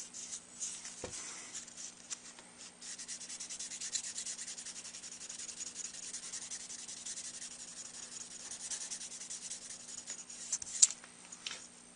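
Soft, steady rubbing of 600-grit sandpaper against a surface, continuous light scratching strokes at close range, fairly quiet throughout.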